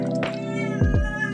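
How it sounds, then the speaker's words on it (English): A pet cat meows in a kitchen, two short rising-falling calls close together near the mic, over a steady low hum of background noise. "Excuse my cat."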